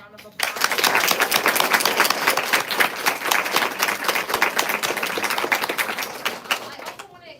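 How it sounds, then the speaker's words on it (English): Audience applause for a panel of elite women distance runners at an evening event, with dense, crisp clapping starting abruptly and holding steady for several seconds before trailing off, close and lively. "Let's give them a round of applause."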